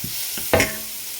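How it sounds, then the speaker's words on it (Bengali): Thinly sliced onion and chopped garlic fry in hot oil with a steady hiss, broken by a couple of stirring scrapes and a louder sizzle burst partway through. "পেঁয়াজ পাতলা পাতলা করে কেটে এটাকে ভেজে নিচ্ছি"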